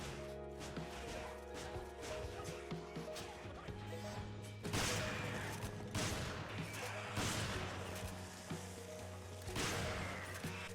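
Shotgun blasts boom in the video game Resident Evil 5, several loud heavy shots spaced a second or two apart over a sustained droning game soundtrack.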